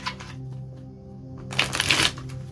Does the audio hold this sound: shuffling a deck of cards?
yes